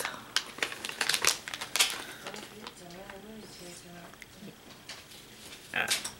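Plastic packaging of a Halo mystery pack being crinkled and pulled open by hand, sharp crackling bursts close to the microphone, pausing briefly and then resuming while a person talks.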